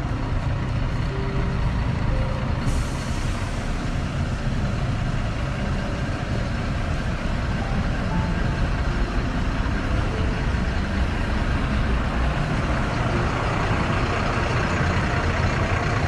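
A coach bus engine idles and rumbles steadily at close range, a dense continuous drone with no clear break, out on a street in Carndonagh, County Donegal.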